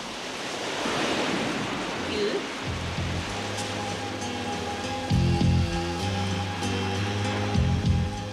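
Steady hiss of rain, with low hums and a voice speaking intermittently underneath.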